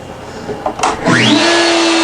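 A CNC machine spindle motor starts after a few clicks, whirring up quickly to a steady, loud, high-pitched whine that holds close and constant.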